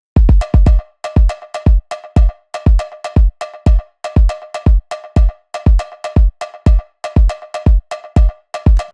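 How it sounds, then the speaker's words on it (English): A loud cowbell treated with echo, drum reverb and sidechain compression, pulsing in a steady repeating pattern over a punchy acoustic kick, each hit ducking and swelling, no voices. "so we've got a cowbell, which is quite loud in the mix actually in the second half"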